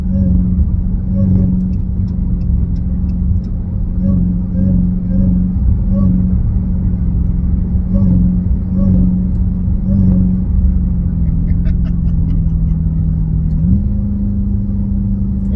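A Dodge Hellcat engine with an aftermarket intake drones steadily and close, its pitch rising and settling through gear changes up to fourth gear, with a sharp upward rev near the end.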